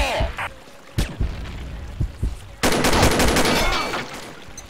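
Bursts of video game gunfire, a few sharp shots followed by a sustained loud rapid volley, with a voice talking briefly.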